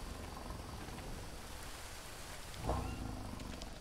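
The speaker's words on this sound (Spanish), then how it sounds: "He escuchado rugir algo." A jaguar roars once in the rainforest of the survival video game Green Hell, a short, loud, low burst rising out of steady rain and jungle ambience.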